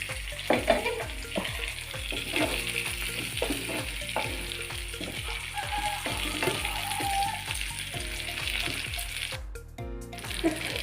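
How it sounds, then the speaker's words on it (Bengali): Chicken pieces are fried in masala in a pan until browned. A continuous close sizzle carries rhythmic scraping and clinking from steady stirring for several seconds. "একটু ভাজা ভাজা করে"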